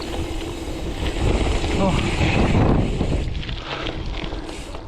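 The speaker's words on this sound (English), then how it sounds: "It's too windy" Strong wind roars steadily across the microphone at a windy watersports spot, a broad continuous rumble that swells in the middle, with a brief voice exclaiming over it.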